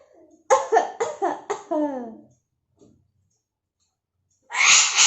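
A parrot imitates coughing, a rapid run of four or five hoarse, raspy coughs, then silence, followed by a harsh burst of breathy noise.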